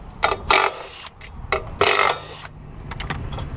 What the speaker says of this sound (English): What you need is a wrench with a 15 millimeter socket.